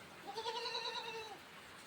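A goat gives a single drawn-out bleat that is fairly faint and slightly distant, followed by quiet.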